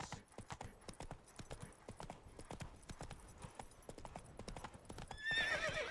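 Roach, a horse in the video game Witcher III, gallops in quick rhythmic clip-clop hoofbeats, close and clear, with a brief whinny-like tonal burst near the end.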